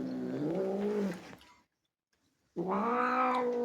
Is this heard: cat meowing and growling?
yes